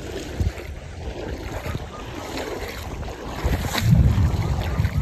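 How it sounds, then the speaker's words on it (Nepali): Floodwater rushes down a swollen river, a continuous loud roar with wind buffeting the microphone and surges that swell toward the end. "हेर्नु कस्तो कुदेको यार पानी"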